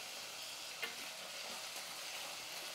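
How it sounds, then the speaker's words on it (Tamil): Tomatoes cook with ginger-garlic paste in a pan, making a steady soft sizzle. A spoon stirs and scrapes now and then, and no voices are heard. "இப்போ தக்காளி இஞ்சி பூண்டு பேஸ்ட்டு பச்சை வாசனை போகிற அளவுக்கு தக்காளி வந்து நல்லா பேஸ்ட்டு மாதிரி வதங்கணும்."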